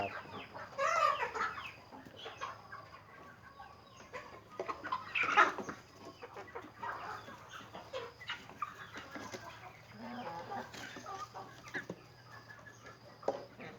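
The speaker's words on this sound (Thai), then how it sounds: "แม่ขาวนี่คือแม่พันธุ์ไก่ไข่มุกอีสานนะ" A white Isan pearl laying hen clucks near feeding time, several soft clucks and squawks with scattered wing flutters among other chickens, close and moderately loud.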